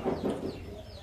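A desi hen kept at home clucks three or four times in quick succession, close by and moderately loud.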